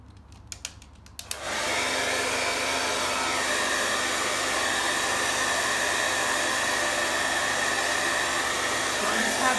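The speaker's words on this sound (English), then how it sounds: "I will use my hair dryer just to dry things fast." A handheld hair dryer blows air over a flower painting, switching on after a few faint clicks into a loud, steady rushing whirr that continues without a break to the end.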